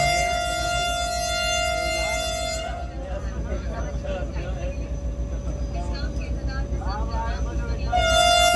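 A passenger train pulls away from Marshalling Yard Colony halt, its horn sounding briefly at the start and again near the end, with a rhythmic rumble of wheels between and people talking over it.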